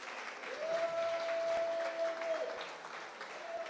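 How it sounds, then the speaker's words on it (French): Audience applause at the UFOWARDS 2025 awards event, a steady wash of clapping filling the room, with a sustained tone running underneath for part of it. "Je vous demanderai de faire du bruit pour vous. Applaudissez"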